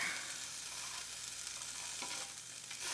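Chicken breast sizzles on a Ninja Foodi XL grill's Sear 'N Sizzle grate, a quiet, steady hiss of frying fat running throughout without talk.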